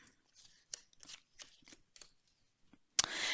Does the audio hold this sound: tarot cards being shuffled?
yes